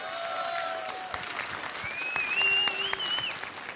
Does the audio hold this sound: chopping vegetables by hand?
no